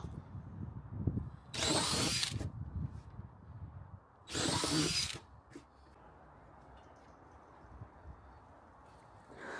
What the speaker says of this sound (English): And here I'm just adding some drainage holes.